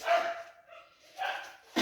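A pet dog barks in a home, a few sharp yaps in quick bursts, fairly close and loud, with short pauses between them.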